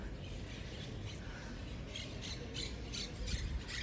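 Parakeets squawk repeatedly in harsh, rapid bursts, fairly faint and distant, over a constant background hiss.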